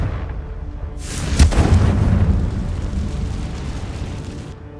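A Confringo fire spell going off in Hogwarts Legacy: a sudden loud, close blast, followed by a few seconds of roaring, crackling rumble that slowly fades.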